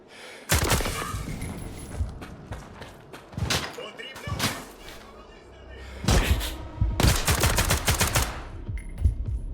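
Bursts of rapid automatic gunfire in STALKER 2 crackle in long and short volleys, with heavy thuds between them, loud and close.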